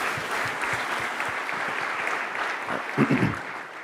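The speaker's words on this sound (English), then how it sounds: "Give a round of applause." Audience applause after a startup pitch at a tech conference competition, a continuous, moderately loud clapping crowd, with a few sharper, louder claps toward the end.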